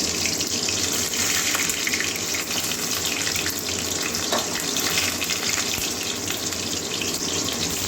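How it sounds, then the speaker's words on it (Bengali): Pointed gourd stuffed with egg fries in hot oil in a pan, a loud, steady, close sizzle with crackling that continues without break throughout. "এই যে এইভাবে আগে মুখটা ভেজে নেব।"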